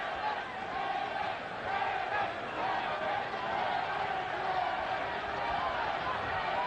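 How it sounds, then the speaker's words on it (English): A boxing arena crowd chanting in support of heavyweight Lennox Lewis, a rhythmic roar of many voices rising and falling steadily beneath a broad wash of crowd noise, held for several seconds without pause. "Lewis's supporters in the crowd chanting for him, Lennox, Lennox, Lennox"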